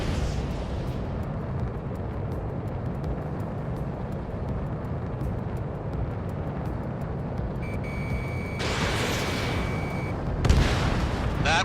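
Rapid gunfire and explosive rumble from a jet's guns destroying a radar vehicle in the flight combat game Ace Combat 7, a dense continuous roar with a sharper burst and impact near the end.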